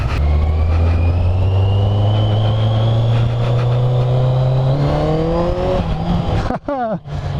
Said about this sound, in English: second gear up the hill, 2000 RPM, and it picks up.